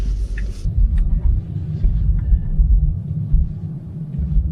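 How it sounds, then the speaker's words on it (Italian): A Tesla Model 3 Standard Range corners hard under acceleration with its rear wheels slipping, heard as a steady, loud low road and motor rumble from inside the car, with no voices. "si sente anche il retrotreno di Tesla Model 3 Standard Range che va, le ruote slittano quando si accelera tutto in curva"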